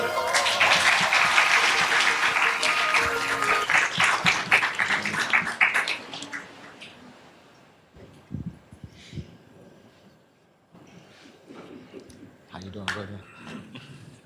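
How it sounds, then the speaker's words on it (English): A crowd applauds panelists after a conversation, loud dense clapping for about six seconds that tapers off, followed by quieter room noise and scattered voices talking. "give our panelists a round of applause"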